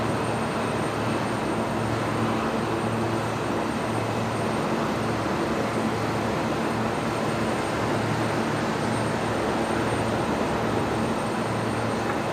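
A jet aircraft takes off at night from Brisbane Airport, a loud, steady broadband roar that holds without pause for the whole stretch, with no voices over it.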